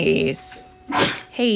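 A single sharp human sneeze, close and loud, set between bits of casual talk.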